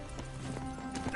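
Hooves of the horse Roach clip-clop in a quick galloping rhythm in The Witcher 3 game, with a brief neigh near the end and faint game ambience.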